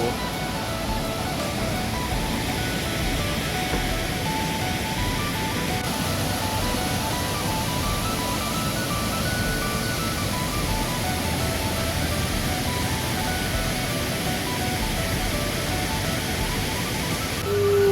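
Water pouring at Tad Khu waterfall near Pakxong, Champasak, a steady loud broadband rush that holds evenly throughout with no talk.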